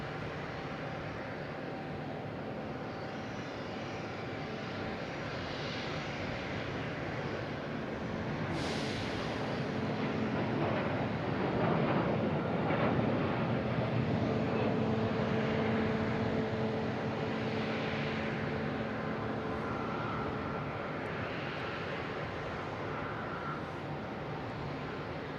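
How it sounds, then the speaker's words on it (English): A Delta Airbus A321neo takes off from Boston Logan, a broad steady jet roar that builds to a peak around the middle and then slowly recedes into the distance, with no voices over it. "Next taking off is Delta heading to Las Vegas, flight 408, an A321neo"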